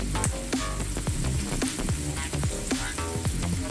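Cuban sofrito for ropa vieja sizzles loudly in a frying pan, a close, steady crackle with occasional scraping stirs and no speech.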